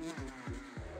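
A dirt-track motorcycle engine revs up in three quick rising surges, each dropping back before climbing again, loud and close.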